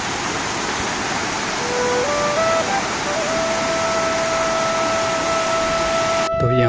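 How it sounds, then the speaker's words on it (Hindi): Small waterfalls spill beside a mountain road between Tanakpur and Champawat, making a steady, close rushing wash throughout, with a faint sustained tone rising over it partway through. "कुछ ऐसे झरने बन रहे हैं छोटे छोटे यहाँ पे"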